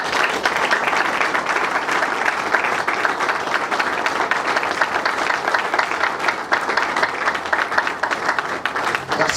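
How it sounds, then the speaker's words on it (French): A large audience at a young entrepreneurs' innovation forum claps and cheers loudly and continuously, a thick, sustained roar of hands and voices with no pause. "Nous allons faire un peu de bruit, on va faire des acclamations"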